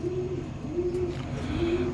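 Iranian Baghdadi Huma pigeons give low, droning coos in repeated drawn-out phrases, close and clear, with no talking.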